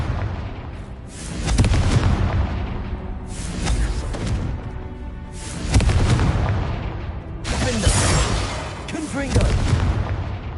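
Confringo fire spell explosions in Hogwarts Legacy, several heavy booming blasts in a row with crackling bursts between them, loud and close amid busy combat noise.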